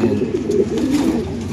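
Pigeons coo steadily and close by, a low rolling murmur that continues throughout with no talking.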